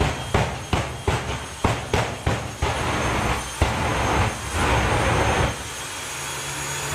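A jet dragster at a drag racing event lets off a series of sharp afterburner pops, about eight loud bangs in quick succession, then a sustained roaring rumble from the engine.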